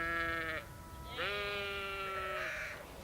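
Sheep bleat on the thin, windblown pasture of the Mendip Hills, with three drawn-out calls in a row, the first short, the second long and wavering, the third fading into a breath of wind.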